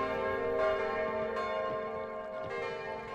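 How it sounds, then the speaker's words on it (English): Church bells toll in Kingdom: New Lands, a loud ringing tone with rich overtones that hangs steadily, with fresh strikes landing every second or so. "The bells toll, signaling that once again it is safe."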